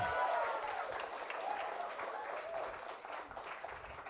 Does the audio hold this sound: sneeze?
no